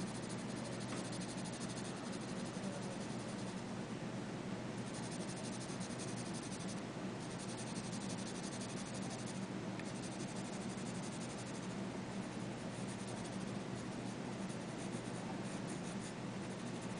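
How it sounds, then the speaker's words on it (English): A pencil's side shades across paper in a continuous soft rasping rub, faint and close, with steady back-and-forth strokes and no talking. "Using the side of my pencil, not so much the point."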